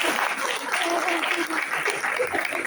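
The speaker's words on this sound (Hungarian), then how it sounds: "Na most egy nagy tapsot kérünk neki." An audience at a company event claps loudly and continuously, a dense close burst of applause with a few voices mixed in.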